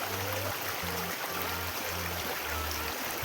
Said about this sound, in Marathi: पाहू शकता किती खळखळ असे पाणी वाहत आहे. पाण्याचा आवाज किती छान आहे पहा.